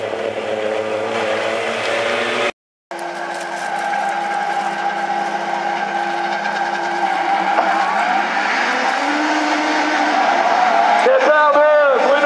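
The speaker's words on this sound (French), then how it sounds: "Départ de Bruno da Silva. Départ de da Silva" Super 1600 rallycross cars rev loudly at the start of a heat at Essay; a brief silence breaks a steady engine roar that builds, with squealing tires near the end, under a commentator's voice.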